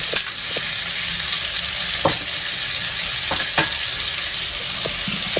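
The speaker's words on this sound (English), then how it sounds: "Got a little bit of garlic and ginger here that I'm going to add as well." Garlic and ginger frying in a pan for a potato and spinach curry, with a bright, steady sizzle up close and a few sharp scraping stirs over it, nobody speaking.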